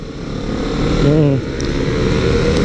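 A Honda CBR 250 RR motorcycle fitted with an R9 H2 exhaust idles and blips up close, a loud steady engine drone with a brief rising rev partway through, under a man's speech.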